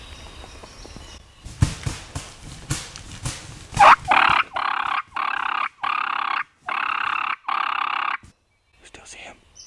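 Wild turkeys gobble outdoors during a hunt, a series of five loud, sustained calls in quick succession after some scuffling and brief talk, ending in faint rustling.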